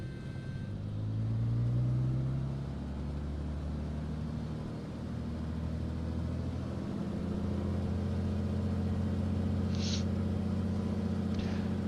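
Twin-engine aircraft run-up to 1700 RPM in Microsoft Flight Simulator 2020, with a deep droning engine hum whose pitch climbs and settles into a steady, loud tone, joined by brief higher tones later.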